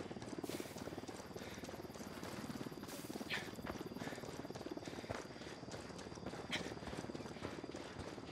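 Helicopter approaching in the video game Ghost Recon Wildlands, its rotor making a continuous rapid chopping drone at moderate level, with occasional brief higher bursts over it.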